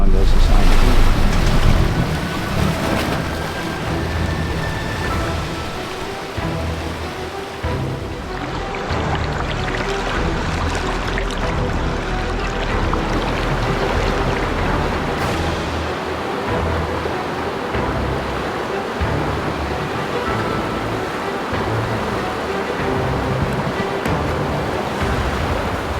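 A 4WD truck pushes through the Pasco River crossing on Cape York, with continuous water rushing and surging around the vehicle, broadband splashing and wind noise filling the whole stretch.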